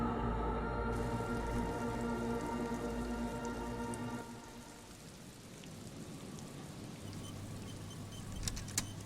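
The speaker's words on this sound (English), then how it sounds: "Don't like the rain." Steady rain from the video game Disco Elysium, a constant soft hiss of drops on surfaces, layered with low background game music tones and a brief clatter near the end.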